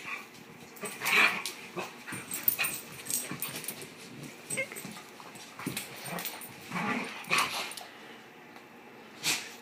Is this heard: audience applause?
no